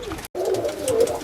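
Pure white homing pigeons coo in a loft, a low throaty warble continuing close by with a brief gap near the start and a soft rustle beneath.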